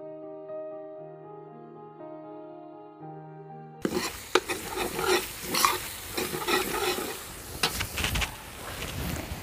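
Masala for a potato and brinjal curry roasting in a pan, a loud sizzle with scraping stir strokes starting abruptly after a few seconds of soft music, no voices.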